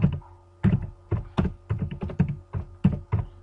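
Typing on a computer keyboard while entering a quiz title in the Moodle e-learning platform: close, crisp bursts of keystrokes in an uneven rhythm, with no one talking.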